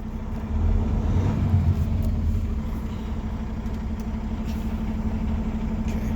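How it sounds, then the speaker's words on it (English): A truck rolls slowly forward at under five miles an hour during a CDL brake test, heard from the cab as a steady low engine rumble that swells briefly and then holds even, with no talk. "I'm going to drive forward no more than 5 miles an hour"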